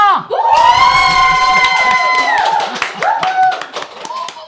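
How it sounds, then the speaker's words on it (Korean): A crowded studio audience at a book talk show with a celebrated novelist erupts in loud cheering and shouting with clapping hands, swelling at once and then settling into scattered whoops and claps. "일단 함성 소리를 듣고 시작하겠습니다"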